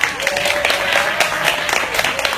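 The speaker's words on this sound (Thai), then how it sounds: "ขอเสียงปรบมือดังๆกับนักแสดงอีกครั้งนะครับ" Audience members at a press event for the stage musical Lom Hai Jai give the actors loud, dense applause, a steady wash of many hands clapping up close that lasts the whole stretch.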